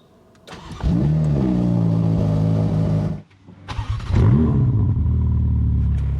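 A Ferrari F8 Tributo V8 fires up with a sharp, loud flare and settles into a rumbling idle, then cuts briefly before a second start and revs, the growl close and aggressive.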